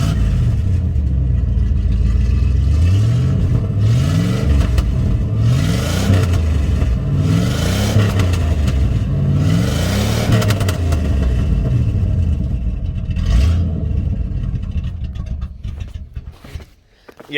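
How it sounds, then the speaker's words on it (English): Square-body Chevy dump truck engine revving repeatedly in loud rising and falling surges, then settling toward a rough, uneven idle near the end; no talk. "Feel free to rev her up."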